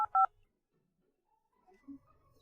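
A telephone number being dialed, two short bright keypad tones in quick succession at the start, followed by near silence and a faint low electronic tone.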